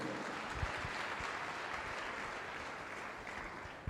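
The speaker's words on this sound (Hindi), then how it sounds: "ताली बजाओ परमेश्वर के लिए।" Congregation clapping to praise God during a Hindi-language Christian church sermon, a steady broadband wash of many hands that fills the whole span at moderate, fairly distant level.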